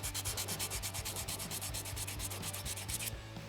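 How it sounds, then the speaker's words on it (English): A red Scotch-Brite pad scrubs and polishes a metal torch holder to remove end mill marks, making fast, rhythmic, close rubbing strokes at an even pace that stop just before the end. "Got some red Scotch-Brite."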